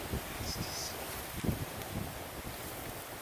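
Steady, faint outdoor wind roars and gusts in a continuous wash of noise, with a few soft rustles and bumps, and no one speaking.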